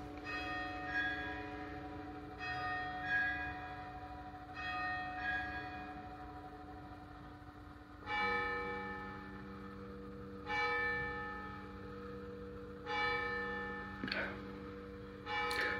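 Church bells ringing at eleven o'clock in Benidorm old town, a series of separate resonant strikes with long ringing decays, moderately distant and clear, heard without talk.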